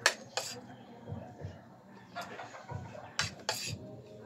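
Spoon clinking and scraping against dishes during a milkfish (bangus) mukbang meal, a few sharp clinks and scrapes spread over a low murmur of background voices.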